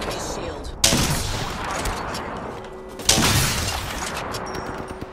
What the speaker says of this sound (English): Shots on me. Shooting.